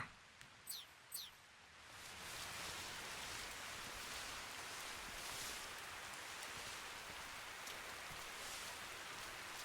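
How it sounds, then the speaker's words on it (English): Steady rain hisses down in Metal Gear Solid Delta: Snake Eater, a broad, even wash of falling drops that swells in after a few brief sharp sounds and then continues alone. "It started raining immediately after."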